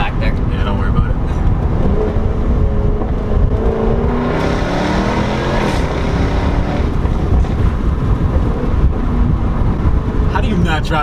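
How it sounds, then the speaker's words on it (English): Jaguar F-Type R AWD accelerating hard, a steady loud engine roar with a rising supercharger whine climbing through the gear, heard from inside the car with people talking over it. "You can hear the supercharger whine as it gets up there"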